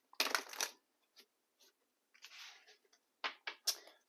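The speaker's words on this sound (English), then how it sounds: "Let's do some initial shuffling." Small Moonology oracle deck being shuffled by hand, a few loud riffling bursts at the start, then softer intermittent shuffles and card slaps, close and without talk.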